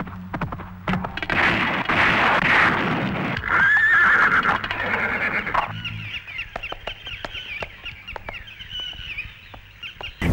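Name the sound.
horses neighing as they run through water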